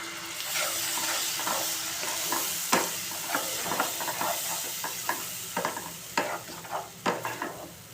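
Tomato paste with chilli and coriander powder sizzles loudly in a hot pan, a dense continuous hiss broken by frequent scraping stirs that grow busier toward the end.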